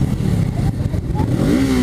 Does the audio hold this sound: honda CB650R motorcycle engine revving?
yes